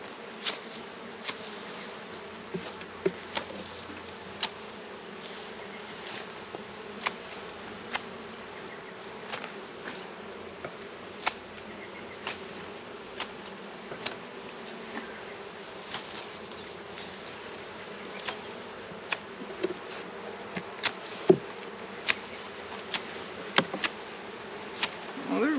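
Honeybees hum continuously around an open hive during a spring inspection for chalkbrood, a close, steady drone with occasional louder passes near the ear and faint clicks of handling throughout.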